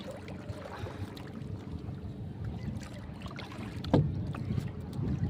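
Small boat on open water, with steady low wash and wind buffeting throughout and a brief sharp knock near the middle; no talk.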